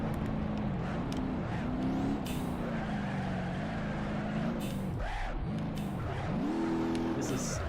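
A car engine revs and shifts continuously on a Pikes Peak rally stage in BeamNG.Drive, its pitch rising and dipping with throttle changes, loud and steady with gravelly road noise and no talking.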